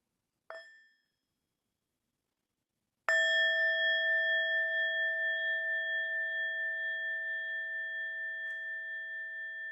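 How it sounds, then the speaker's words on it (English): A short metallic ding, then after a pause a single bell strike that rings out clearly and sustains, slowly fading over several seconds. "let's begin with the sound of the bell"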